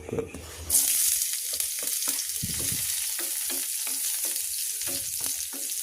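Chopped garlic fries in a pan for adobong kangkong, a loud continuous sizzle broken by scraping strokes of a spatula, close and alone.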